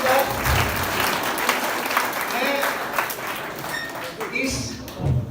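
Applause from an audience at a school stage play of Munshi Premchand's Bade Bhai Sahab, a steady burst of many hands clapping close by, with a voice speaking over it at moments.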